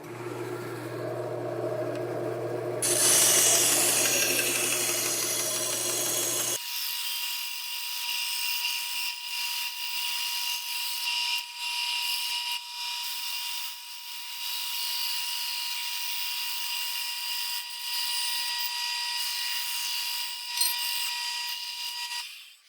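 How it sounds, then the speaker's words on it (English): A bandsaw cuts sheet metal for a styled bicycle part with a harsh, steady, high-pitched whine and grinding rasp. A deeper motor hum drops away partway through, and the shrill cutting tone carries on alone, loud and continuous. "I'm going to use a bandsaw because it's fast and it doesn't distort the metal in any way."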